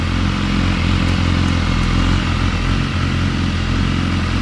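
A motorcycle engine bought in Dubai runs loud and close, its steady throbbing note swelling slightly as the throttle is blipped, with no talk over it.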